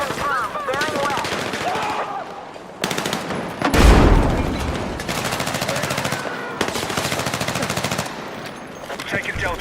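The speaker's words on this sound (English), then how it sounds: "Be advised, enemy machine gunner confirmed." Enemy machine gun fire in a video game rattles in long, loud automatic bursts separated by brief gaps, with a heavy boom partway through and voices calling out among the shots.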